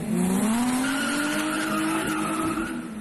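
A first-generation VW Golf with a VR6 engine and wider rims and tires, revving hard as its tires squeal in a loud, continuous skid lasting about three seconds, engine roar underneath, no talking.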